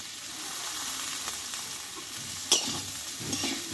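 Yardlong beans tossed into a pan with potatoes, tomato and salt, stir-fried over heat: a steady sizzle and frying hiss with soft scraping stirs and one sharp clink of the utensil against the pan.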